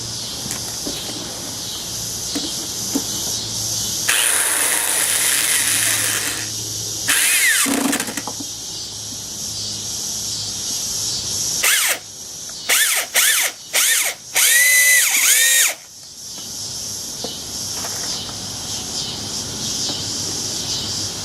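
A power drill drives screws into a wooden pumpkin in several whirring bursts, the final run broken into short, rapid pulses, with quiet handling noises between them.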